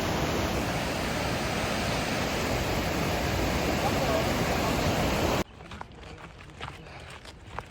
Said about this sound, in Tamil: அழகா உருகி இவ்வளோ சூப்பராக ஃபால்ஸ்லேருந்து தண்ணி வருது